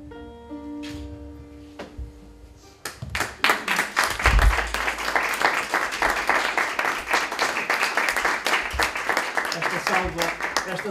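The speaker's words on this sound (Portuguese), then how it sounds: "Esta salva de palmas foi para Alzira Santos" Audience applause at a book launch in Porto, a sudden burst of many hands clapping loudly and densely after a short stretch of speech with a chime, sustained to the end.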